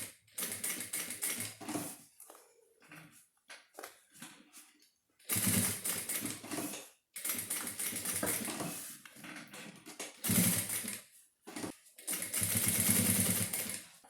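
Sewing machine topstitching along a fabric pencil case near the zipper, running in several bursts of fast rattling stitching separated by short pauses, close and fairly loud with no talk.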